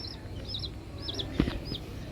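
Chicks on a balcony give a few short, high chirping calls spaced through the moment, with a louder thump or bump in the middle over quiet background.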